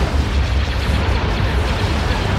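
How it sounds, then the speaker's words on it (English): A torpedo launcher blows up in the space strategy game Empire at War, a loud, dense rumbling explosion that fills the whole stretch with heavy low boom and crackling debris. "torpedo launcher has been destroyed."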